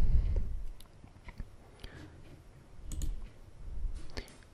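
Sharp computer mouse clicks on a Windows PC, several scattered through a few seconds, close-up and fairly crisp over low background rumble.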